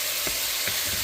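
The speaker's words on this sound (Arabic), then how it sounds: "هلا حطينا البصل ورح نقلي البصل مع الدجاج" Onion fries with chicken in a pan, a continuous close hiss and sizzle with a couple of faint stirring bumps over about a second.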